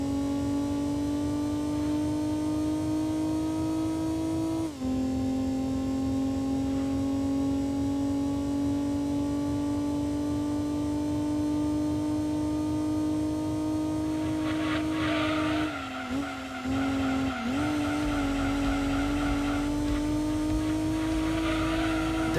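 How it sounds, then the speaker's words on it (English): A race car engine in Gran Turismo 2 on PS1 drones steadily at high revs with a smooth, synthetic tone, dipping with gear changes and briefly squealing its tires mid-corner before settling back into a constant whine. "This car sounds like a Tesla trying to pretend to be an inline 6"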